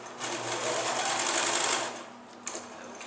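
A domestic sewing machine stitches a wide zigzag through upcycled sweater knit, a close, steady whirring run that stops briefly, then a short burst as it reverses and goes forward again.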